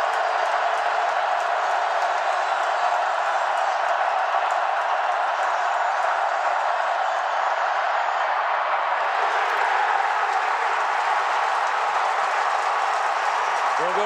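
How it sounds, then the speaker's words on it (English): Sustained roar of a stadium crowd at a 2011 Clemson vs Wake Forest college football game, a broad distant din with cheering that swells slightly partway through, under faint commentary. "This crowd is on its feet."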